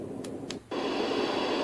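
A HOMGEN white noise machine emits synthetic noise; two short beeps and a brief dip lead into a steady, broad hiss that continues evenly to the end.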